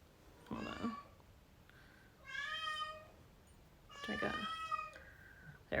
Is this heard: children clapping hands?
no